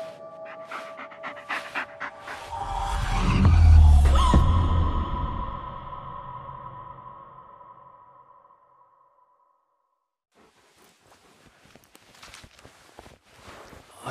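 A dog in the Blair Witch video game panting heavily with a swelling rush of breath, loud and close, fading into near silence before faint rustling returns; no one speaks.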